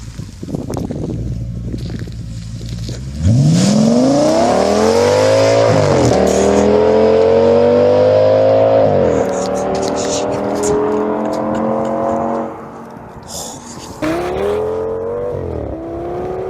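A 2007 Audi S6 with a 5.2-litre V10 revs up loudly, its engine note climbing through several gear changes close by, then easing off before a last rev, with a voice talking over parts of it.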